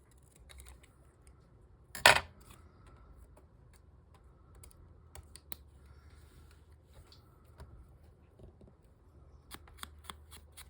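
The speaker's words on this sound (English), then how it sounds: "Snip that off." Scissors snip off a watercolor paper swatch in one sharp, close cut. Quiet paper rustles and small handling clicks follow.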